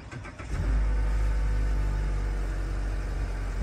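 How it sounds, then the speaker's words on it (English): A Mazda car's engine cranks and catches at a dealership, then settles into a steady, low, close idle that continues to the end. "he's just going to turn the engine over"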